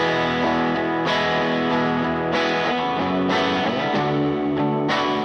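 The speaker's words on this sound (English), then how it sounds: "And so these are the guitar sounds I've settled on." Layered, reamped electric guitars played through an amp, with distorted chords ringing out sustained and loud, struck anew every second or so, with a chorus-like shimmer and no talking.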